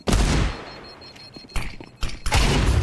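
Gunfire in the video game Counter-Strike during a tournament match: loud sharp bursts of shots at the start, then quieter clatter and two more heavy blasts close together, no voices.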